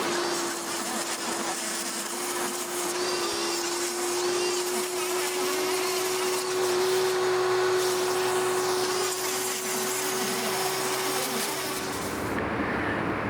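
Power tool cutting a windshield trim strip: a loud, steady whining drone that runs almost unbroken, close by, then cuts off near the end.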